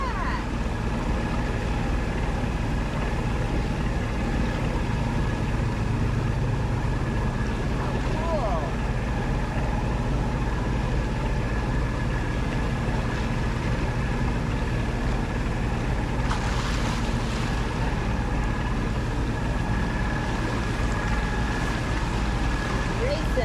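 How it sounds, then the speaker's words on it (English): An outboard motor drives a dinghy on open water near Biscayne Key, droning steadily and close throughout, with wind and water noise around it and brief voices over the engine. "I wish I was sailing so we wouldn't hear this motor."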